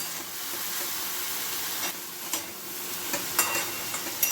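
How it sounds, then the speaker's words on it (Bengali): Ridge gourd cooks in a pan over a medium flame with a steady, close sizzle and hiss. Occasional soft clicks from stirring rise above it. "ঝিঙেগুলো দিয়ে একটুখানি ফ্লেমটাকে মিডিয়াম করে দেবেন।"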